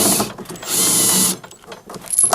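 Bolts being tightened on a Phoenix DryMAX XL dehumidifier while its thermistor probe is replaced, giving bursts of loud, close ratcheting clicks with brief pauses between them.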